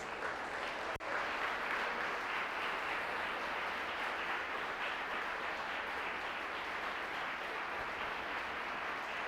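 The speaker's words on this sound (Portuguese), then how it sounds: "Eu quero que você aplauda o nome de Jesus." A church congregation bursts into steady, sustained applause, an even roar of many hands clapping together without pause, heard from within the hall with no voices on top.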